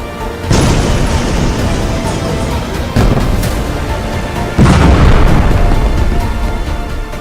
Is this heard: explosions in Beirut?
yes